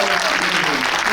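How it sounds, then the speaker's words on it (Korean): A packed cinema audience claps briskly and densely at a film screening talk, a continuous burst of applause in a large hall. "좀 박수 좀"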